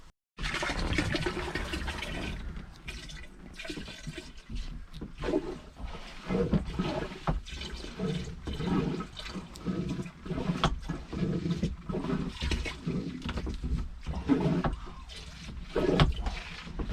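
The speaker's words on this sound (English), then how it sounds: "I'm going to actually pour a couple gallons of antifreeze in there" RV antifreeze is poured into the holding tank of a Ranger Tug 21-EC boat, making a continuous gurgling, splashing rush of liquid with uneven surges throughout.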